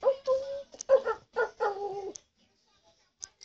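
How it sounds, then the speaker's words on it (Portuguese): A dog yelps and whimpers in a quick run of high, whining yips lasting about two seconds, fairly close and clear, followed by near silence with a couple of faint clicks. "Acho que vai ter de ser cão."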